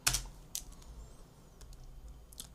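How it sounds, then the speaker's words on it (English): Typing on a computer keyboard, a few quiet scattered keystrokes with sharp clicks at the start, middle and end and soft low hum between. "So press tab and type chop."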